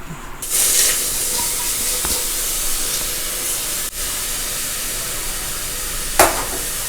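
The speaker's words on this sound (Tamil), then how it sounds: "இதை வந்து கொஞ்சம் ஒரு ஸ்பூன் நெய்யை விட்டு வறுத்துக்கிறேன்" Almonds fry in a spoonful of ghee, a steady close sizzle and hiss running throughout with a couple of brief clatters, no voices.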